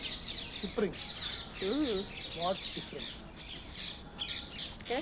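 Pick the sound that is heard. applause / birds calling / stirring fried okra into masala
birds calling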